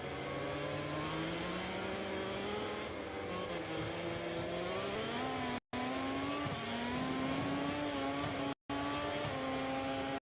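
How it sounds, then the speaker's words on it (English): MotoGP motorcycles racing in warm-up at the Grand Prix of Czechia, with engines rising and falling in pitch as they accelerate and brake, heard loud and continuous with brief cuts. "that's allowing Bagnaia to try and level him on the brakes into 3"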